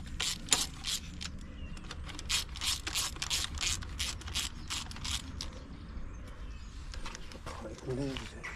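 Bolts on a mini bike are tightened with a hand ratchet, giving a run of quick, evenly spaced clicks up close, then a few scattered clicks and knocks before it stops.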